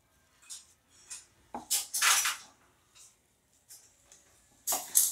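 A spoon scrapes and clinks against a pan while stirring ghee into rava pongal, coming in short intermittent bursts with a louder cluster of scraping in the middle and another at the end, with no talking.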